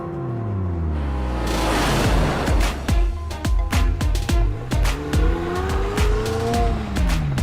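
A car is driven fast with its tires squealing through turns, long screeching skids over a revving engine and a rapid run of sharp repeated squeals, loud and close.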